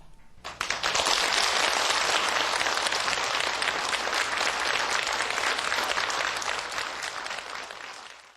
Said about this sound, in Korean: 우리 장로님께서 이제 나오실 때 뜨거운 박수로 맞아주시기 바랍니다